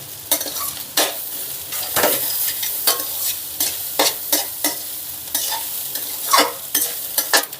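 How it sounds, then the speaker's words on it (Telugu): Egg fried rice tossed and stirred fast in a hot pan at a roadside street-food stall, a steady sizzle broken by rapid repeated scraping strokes of the spatula, close and loud with no voices. "అంత స్పీడ్గా టాస్ చేసుకోవాలి అప్పుడే మన ఫ్రైడ్ రైస్ మంచి టేస్ట్ వస్తుంది"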